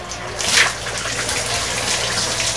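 Running water rinsing hair during an at-home hair straightening treatment, a steady splashing gush with a brief louder surge near the start, close and continuous, with no talking.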